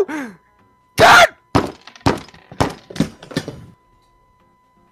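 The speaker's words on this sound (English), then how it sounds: "I broke my lamp." A lamp breaking: a heavy crash lands after a brief groaning voice, followed by a run of sharp clattering impacts that fade out, loud and close.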